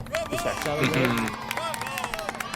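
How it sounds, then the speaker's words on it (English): A small group claps in a short burst of applause, with voices talking and cheering over and through it. "round of applause for everybody"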